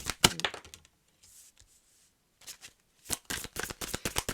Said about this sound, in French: Je vais juste aller sortir d'autres cartes pour voir ce qui vient.